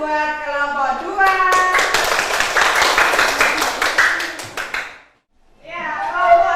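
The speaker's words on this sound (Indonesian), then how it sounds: "Kalau gitu tepuk tangan buat kelompok 2" Students in a primary-school classroom clap together for a presenting group, a burst of loud, close hand claps lasting a few seconds between stretches of children's voices, cutting off abruptly.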